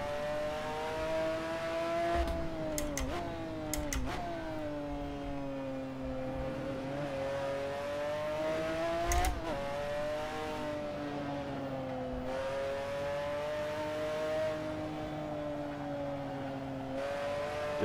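A McLaren F1 GTR race car engine in a racing simulator game revs and accelerates through repeated gear changes, its steady loud drone rising in pitch with brief shift breaks, alone without talk.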